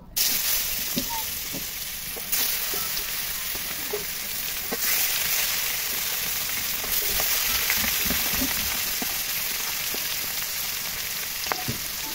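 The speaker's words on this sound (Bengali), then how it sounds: "টাটকা মাছ ভাজি করলে যা হয়" Fresh fish fries in a pan with a steady, bright hiss and sizzle throughout, broken by small pops and occasional stirring knocks, close and even in loudness.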